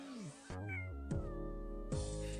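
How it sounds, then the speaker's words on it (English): A house cat meows three times in quick succession, close and clear, each call drawn out and plaintive with rising and falling pitch. "Alright, that's a sad meow."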